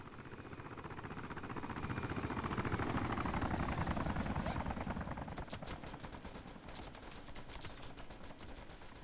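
Helicopter machine-gun fire in the DayZ mod, a rapid rattling burst over a rising then fading rotor whine, heard at a distance and fairly faint, continuing for several seconds.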